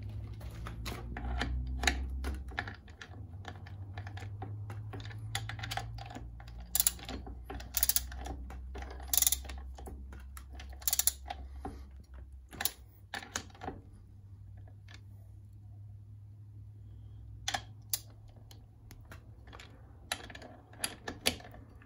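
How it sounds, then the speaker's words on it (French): A ratchet wrench clicks while tightening rear wheel bolts on a Brixton BX 125 motorcycle during a chain kit replacement, with bursts of quick ratcheting and scattered metallic knocks over a low background hum. "je vais procéder au serrage de tous les boulons de la partie roue arrière"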